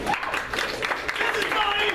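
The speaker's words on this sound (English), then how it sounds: "Round of applause for Bonnie and Ann" Audience applause at an improv comedy show, a brief burst of clapping from a small crowd, moderately loud and steady, mixed with cheering voices.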